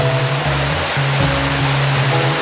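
Limestone creek with deep pools, steep banks and strong currents, its water rushing in a steady broadband wash with a low rumbling undertone, continuous and close, with no talk.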